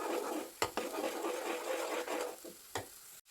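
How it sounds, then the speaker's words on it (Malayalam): Two beaten eggs are stirred in a pan at home, a soft scraping swish under faint sizzling, with several sharp utensil clacks against the pan and a brief silence at the end. "അപ്പം 2 മുട്ട ഞാൻ പൊട്ടിച്ചിട്ടുണ്ട്. അതിന് നന്നായിട്ട് ഇളക്കി കൊടുക്കും."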